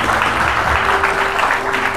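A crowd claps steadily for the whole stretch, a dense patter of many hands, with a voice faintly audible underneath.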